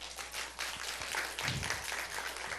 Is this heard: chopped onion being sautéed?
no